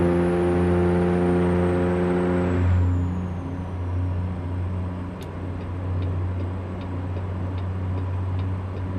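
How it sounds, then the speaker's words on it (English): A heavy truck's engine brake in American Truck Simulator gives a loud, steady, low droning rumble for about three seconds. It then drops into a broad road-and-engine roar with faint ticking clicks on top. "That Jake brake sounds good."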